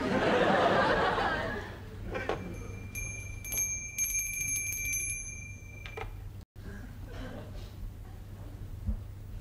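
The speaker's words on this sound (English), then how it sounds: "Aren't you going to ask me why I rang the bell?" A bell rings with a sustained, bright metallic tone for a few seconds in a comedy interview scene, over a room background with some laughter.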